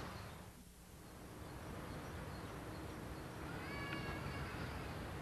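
A cat gives a single short meow partway through, set against steady background noise.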